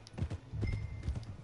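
Horse hooves clip-clopping in a steady trot in Red Dead Redemption 2, close and continuous for about a second and a half with a low rumble beneath the hoofbeats.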